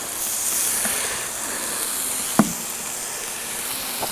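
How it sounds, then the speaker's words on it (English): Steady hissing sizzle of water dropped on a hot ammo can stove top outdoors, fairly quiet and continuous, with one brief sharp crackle partway through. "I just dropped some water on it. Listen to that. Haha, you hear that sizzle?"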